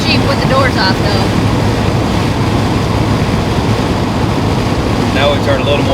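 Constant heavy wind buffeting inside a moving 1992 C4 Corvette with the hatch vent open, loud and unbroken, with faint talk underneath.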